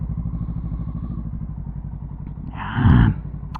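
A Yamaha XSR900 motorcycle fitted with a Woolich Racing kit idles nearby with a steady low burble, then its engine briefly revs louder before settling back.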